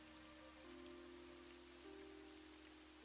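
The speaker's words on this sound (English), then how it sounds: "It's raining." Steady rain falls in the video game AI: The Somnium Files, a soft continuous patter across the whole stretch, with a low tonal hum sitting underneath and no voices.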